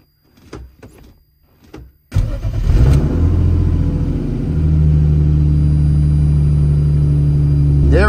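A turbocharged BMW M50 engine in an E30 starts up in a workshop after a few faint knocks, catching with a loud burst and settling into a steady, smooth running drone close by.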